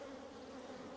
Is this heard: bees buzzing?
yes